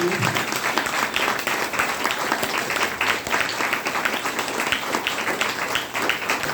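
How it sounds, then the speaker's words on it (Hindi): An audience at an indoor health training program claps in loud, sustained applause with crowd noise and a few voices mixed in throughout. "ताली होनी चाहिए।"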